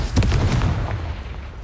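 Blasts from the Bombarda and Confringo explosion spells in Hogwarts Legacy, a dense booming burst with rumbling, crackling impacts that fill the short stretch loudly and steadily.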